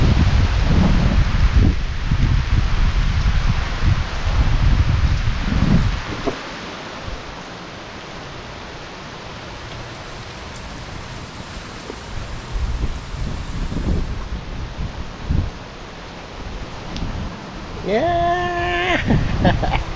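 Heavy rain and gusting wind sweep through an outdoor camp, a rough, rushing roar that swells and eases, broken by a few louder bursts and a brief tonal sound near the end.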